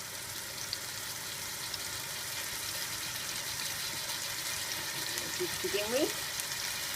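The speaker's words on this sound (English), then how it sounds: "I'm just going to, in olive oil I'm using, just place some of the meat into the pan to brown" Meat browning in hot olive oil in a pan for a Greek stifado, a steady close sizzle and crackle that runs throughout, with someone talking briefly over it.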